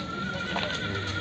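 At the Sokuluk livestock market near Bishkek, a horse gives one short, close whinny over faint market background.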